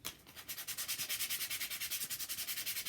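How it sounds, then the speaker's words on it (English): A painted cookie pin is sanded by hand with fast, even back-and-forth strokes, a soft rhythmic rasp repeating about ten times a second, close and quiet with no talk. "I'm going to give it a little sanding."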